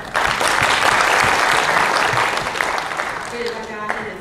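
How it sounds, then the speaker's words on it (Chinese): An audience at the COSCUP 2014 open-source conference claps to welcome a speaker, giving about four seconds of dense, continuous applause that thins out toward the end as a voice begins. "那我们掌声欢迎"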